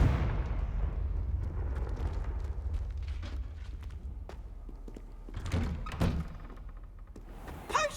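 Confringo fire spell blasts from Hogwarts Legacy land as dull thunking booms, a couple of sharper hits near the end over a low rumbling game backdrop.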